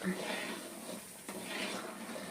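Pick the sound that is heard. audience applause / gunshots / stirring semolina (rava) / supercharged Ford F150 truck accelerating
stirring semolina (rava)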